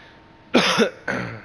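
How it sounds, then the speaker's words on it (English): Two harsh coughs close together, the first a double burst, the second shorter, loud and near with quiet room tone between. "Sorry, I'm coughing a lot."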